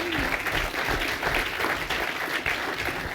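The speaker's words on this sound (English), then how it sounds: "How about a big round of applause for our guest tonight?" An audience applauds a guest at an evening book event, a dense, steady wash of clapping that holds loud and close for the full length with no voices standing out.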